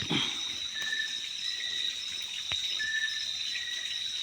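Steady rushing water with a constant hiss, like a small waterfall in a river, plus a few faint high chirps.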